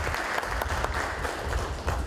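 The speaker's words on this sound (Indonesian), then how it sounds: "Boleh tepuk tangan buat kita semua." Audience at a regional government meeting in West Papua breaks into sustained applause, a thick continuous patter of many hands at a steady, fairly loud level with no talk over it.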